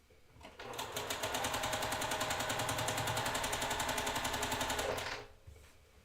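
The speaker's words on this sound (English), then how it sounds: "do right sides together and sew down" A sewing machine chain-pieces quilt blocks in one continuous, rapid stitching run lasting several seconds, close and steady, then stopping abruptly.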